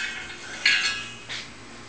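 A metal bicycle spoke head clamped in a vise is struck with a hammer, giving two sharp, bright metallic clanks spaced about half a second apart, the first louder, over a quiet room hum.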